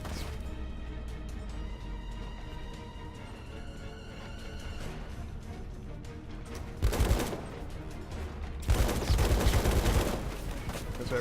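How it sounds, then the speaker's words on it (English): Gunfire in the mech shooter Left Alive on PS4, two loud bursts of rapid shots cracking out close over a steady humming background, the second burst longer than the first. "We just started shooting."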